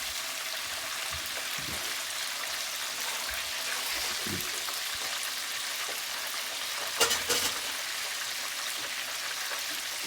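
Pork schnitzel fries in butter in a nonstick pan, giving a steady, close hiss and sizzle with a couple of soft bumps and a brief clatter near the end.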